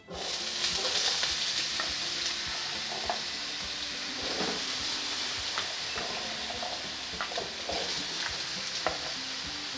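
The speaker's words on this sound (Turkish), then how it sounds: "patatesimi ekledim. Ekledikten sonra kızartacağım. Bütün malzemeleri kızartacağım tek tek." Potatoes sizzle and crackle steadily in hot oil, with occasional stirring and small scraping taps throughout.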